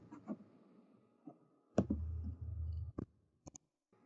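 A computer mouse gives several crisp, close clicks spaced a second or so apart, with a low electronic hum in between and a quick double click near the end.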